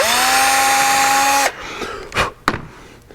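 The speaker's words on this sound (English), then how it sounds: "You could mark this and drill it properly." Power drill whining at a steady high pitch for about a second and a half while boring into wood, then stopping, followed by a few short knocks and clatters, close and loud with no talking.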